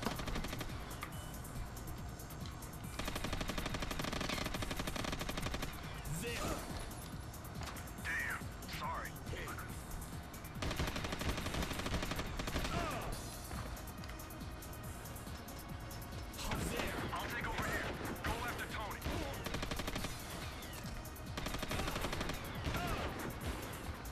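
Sniper gunfire in the video game Winback 2, sharp shots scattered through a busy, dense mix of game sounds and speech, fairly faint overall.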